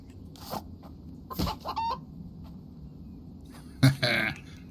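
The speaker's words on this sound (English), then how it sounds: "What was that? Oh, hello, chicken." A chicken in the survival game The Infected gives a few short clucks over a low ambient game backdrop, with a louder burst of clucking near the end.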